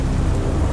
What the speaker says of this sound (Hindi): उसी समय बारिश और तूफानी हवा तेज होती जा रही थी